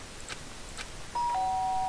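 A video game doorbell plays a two-tone ding-dong chime, followed by a brief, brighter electronic tone that holds steady at the end.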